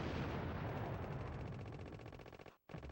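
Rapid, continuous bursts of gunfire from the spread gun in the game Contra, loud and dense with crackling impacts, then a brief drop to silence near the end before the noise resumes.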